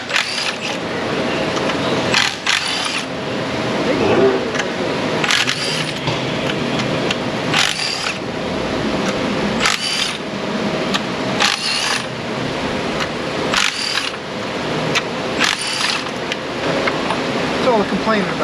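Compressed air blasting debris off a GM 3.6 engine in an auto repair shop, a loud continuous hiss broken into repeated bursts with short gaps, steady and close throughout.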